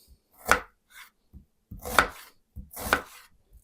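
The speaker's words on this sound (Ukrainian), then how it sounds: "наріжемо дрібненьку цибулю" A knife chops onion finely on a board in three sharp, close thumps about a second apart, each followed by quieter taps, with silence in between.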